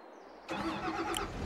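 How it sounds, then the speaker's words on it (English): A tractor engine starts up in the farming video game Farming Simulator 22, cranking suddenly into a steady, loud mid-range idle after a brief quiet moment. "Start her up and honk the horn."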